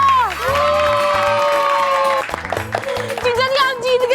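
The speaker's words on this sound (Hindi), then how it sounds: "जोरदार तालियां।" Loud applause and cheering for a winner on the television show Baalveer, a mix of clapping, shouts and whoops from a crowd that includes children, with a sustained musical tone over the first half and bursts of voices toward the end.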